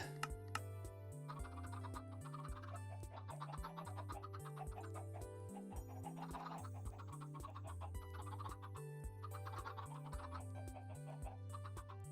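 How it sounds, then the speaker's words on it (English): Chickens in a Minecraft-style video game chicken farm cluck over a looping game music track with a bouncy bass line, the short clucks repeating quietly under the tune. "Might drop down the chicken noise"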